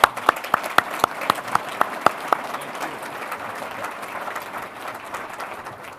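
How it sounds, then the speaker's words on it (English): An audience applauds a government minister at a public event, starting with a few distinct sharp claps that merge into steady, moderately loud applause lasting several seconds. "If we could have maybe one more round of applause for the Minister for today."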